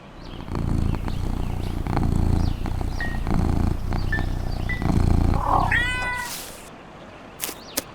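Cartoon cat effect for a children's fairy tale: a loud growling purr and snarl, then rising meows and a short yowl, followed by a few faint clicks as it fades.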